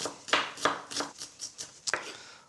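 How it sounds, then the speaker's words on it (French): A knife chops shallots into small cubes on a board, about eight crisp, close knocks in an uneven rhythm. "Je strie dans un sens, je coupe dans l'épaisseur et je finis par faire des petits cubes."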